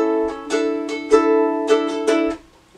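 Ukulele strummed through A and sus4 chords in a song's intro pattern, bright rhythmic up-and-down strokes in uneven groupings, close and clear, with no voices.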